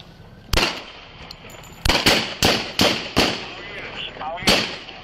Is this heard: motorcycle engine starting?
no